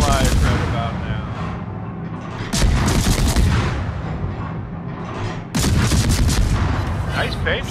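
Naval gunfire in the World of Warships video game: loud, dense booming salvos roll in repeated bursts, with sharp new volleys around the three- and five-second marks, under intermittent speech.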